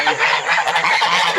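Geese honk loudly and continuously at close range, overlapping harsh calls filling the whole stretch.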